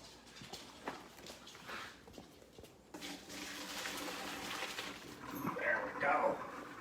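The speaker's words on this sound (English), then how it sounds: "Now we'll drain our pasta." Hot pasta water pours and splashes into a colander, a rushing watery gush that grows louder toward the end, with clatter of cookware and a person talking over it.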